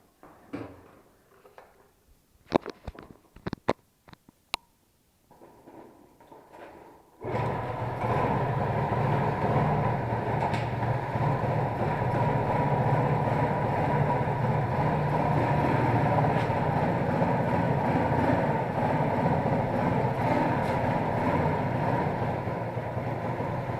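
Engine of an Alfa 110 moped, restarted after a few faint clicks and knocks of work on it, then running steadily at a loud, even idle until the end.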